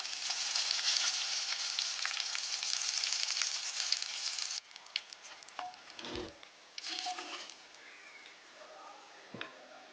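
Drumstick pieces fry in hot oil, a loud, steady sizzling hiss for the first few seconds that then drops to softer crackling broken by clinks and handling noises.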